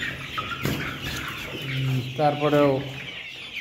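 Layer hens cluck and squawk inside a winter poultry shed, several birds close by in overlapping calls, with someone talking briefly among them.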